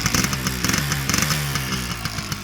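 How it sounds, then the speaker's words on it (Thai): Stock exhaust of a Kawasaki GTO two-stroke motorcycle, a loud, raspy, steady idle with rapid pulsing revs, close to the microphone and with no one talking. "ฟังเสียงท่อนะครับเป็นเดิมครับผม"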